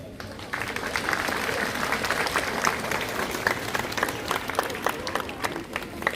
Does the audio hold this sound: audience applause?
yes